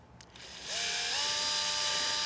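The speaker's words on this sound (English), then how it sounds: "let's drill the first one and see how well it does" A power drill bores into a wooden workbench leg, spinning up from a quiet start into a steady, high whine that holds close and clear to the end.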